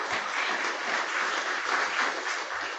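A conference audience applauds steadily, a dense, even wash of clapping from many hands in a hall, with no voices over it.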